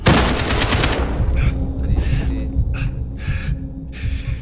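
A short burst of rapid automatic gunfire in Call of Duty Modern Warfare opens loudly, followed by a low hum and a few scattered sharper hits or shots.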